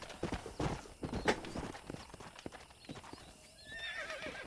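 Horse hooves clip-clopping at a walk in the Red Dead Redemption video game, with a loud whinny mid-way and faint birdsong near the end, close and clear with no talk.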